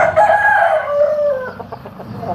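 Big double-bodied Pala Abrash rooster of the Bhimavaram type crowing once, loud and close, in a long drawn-out call that fades away at the end.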